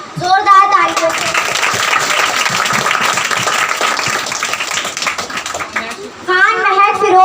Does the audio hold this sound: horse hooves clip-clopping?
no